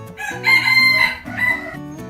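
A rooster crows nearby, one loud drawn-out call with a rising, wavering tone and a short cluck-like tail, clear and alone.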